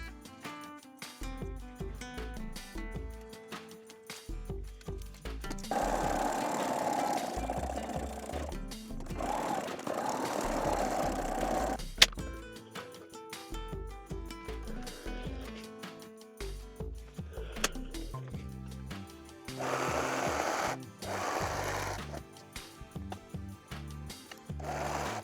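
Sewing machine stitching the side seam of a tube top in several separate runs, each a loud rapid mechanical chatter with short pauses and handling between bursts, close up and with no talking.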